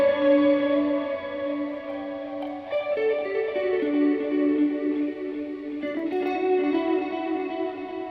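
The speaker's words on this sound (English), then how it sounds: "That's an interesting ping pong. It's got long trails." A guitar runs through a ping pong delay pedal set to the Digipong preset on an LBX, its sustained notes bouncing into long, overlapping repeats that trail on continuously with no talking.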